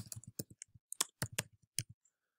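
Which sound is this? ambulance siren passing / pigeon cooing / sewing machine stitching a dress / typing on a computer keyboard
typing on a computer keyboard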